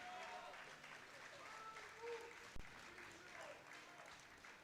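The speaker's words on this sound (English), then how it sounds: "Plenty of support in the crowd." A crowd at a world equipped powerlifting championship applauds in a steady wash of clapping throughout, with a commentator's voice heard over it and one sharp thud partway through.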